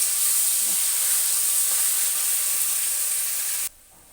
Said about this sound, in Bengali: ওগুলো দিয়ে দিচ্ছি তেলের মধ্যে।